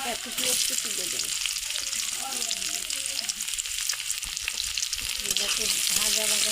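Chopped onion frying in hot mustard oil, a steady, close sizzling crackle with soft stirring scrapes running the whole time.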